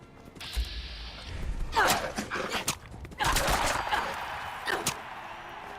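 Scattered barks from dogs in Fallout 4, several sharp yaps at irregular intervals, fairly close, mixed with creaks and thuds of game activity.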